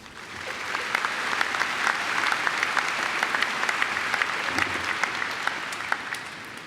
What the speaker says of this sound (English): So let's give them all a quick round of applause.